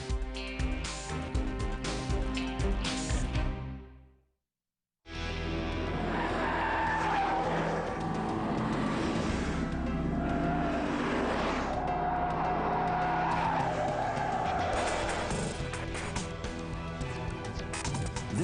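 A car brakes hard on a Michelin tire test track from about 31 km/h to a stop, loud tire squeal and skidding that cuts out briefly, then another long, harsh skid with a rising screech.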